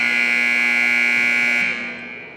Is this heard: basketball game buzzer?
yes